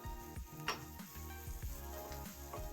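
Spiced tempering crackles and sizzles in a hot pan as it is prepared for a savoury snack mix, a steady close hiss with small pops, heard alone.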